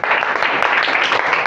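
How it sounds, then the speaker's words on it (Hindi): A classroom of students at an intermediate college claps for a classmate, a dense, even patter of many hands that stays steady and close for the whole short burst. "तालियां बजाइए इनके लिए।"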